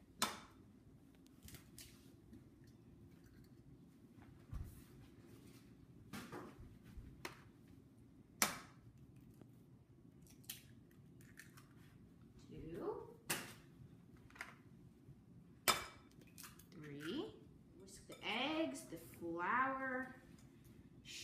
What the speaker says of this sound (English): I'm going to crack 6 eggs in here